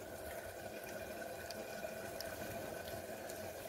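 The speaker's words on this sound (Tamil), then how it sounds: "இப்போ இதுலேருந்து தேங்காய் பால் எடுத்துக்கலாம்." Ground coconut squeezed by hand to press out coconut milk, for a Kerala-style clay-pot fish curry: a steady, close, wet trickle of liquid running and splashing, continuous without breaks and no voices.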